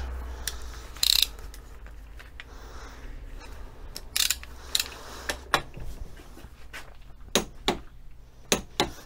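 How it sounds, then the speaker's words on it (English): Draper torque wrench ratcheting during wheel bearing work on a classic MGB in a home garage, sharp clicking bursts spaced irregularly, close and fairly loud over a quiet background. "so now it's a Draper torque wrench"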